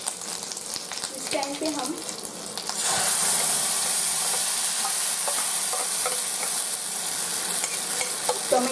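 A spice paste sautés in a pan for a quick paneer dish made without garlic or onion; a brief spoken phrase over soft stirring gives way to a loud, bright, steady sizzle that holds to the end.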